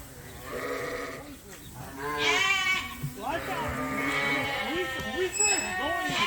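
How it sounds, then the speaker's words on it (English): Sheep and February-born lambs bleat repeatedly on a working sheep farm in April, the wavering calls overlapping close by while people talk throughout. "we're looking at the February lambs."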